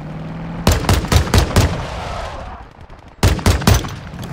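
Heavy automatic gunfire in the video game Modern Warfare 2: loud close bursts of rapid shots, a pause, then another burst.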